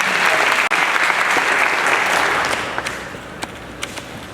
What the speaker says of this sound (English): Clap one time if you believe in yourself. Clap 2 times if you love yourself.